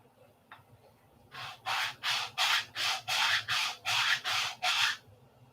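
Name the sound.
sanding with sanding block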